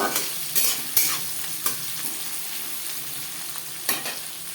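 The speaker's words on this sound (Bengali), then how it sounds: "পেঁয়াজের সাথে তেজপাতাও ভেজে নেব" Onions and a bay leaf fry in a thick aluminium kadai for chicken biryani, a steady close sizzle broken by several sharp clicks and scrapes of stirring, with no voices.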